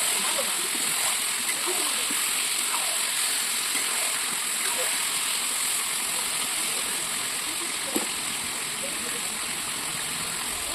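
Potatoes and onion fry in a pan with a continuous bright sizzle and occasional pops, close by, while a voice talks faintly over the cooking.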